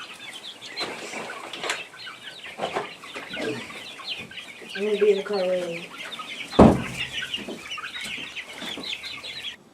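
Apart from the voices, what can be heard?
Rhode Island Red hen clucking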